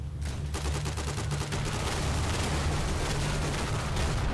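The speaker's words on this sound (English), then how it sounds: "somebody was shooting me already." Dense, continuous gunfire in the WWII shooter Day of Infamy during multiplayer combat, rapid rifle and machine-gun shots crackling nonstop over a rumbling battlefield din.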